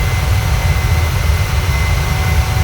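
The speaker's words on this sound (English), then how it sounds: "Awesome takeoff." A jet airliner's engines roar steadily through the takeoff climb, a loud, even low rumble heard from inside the aircraft with no talking.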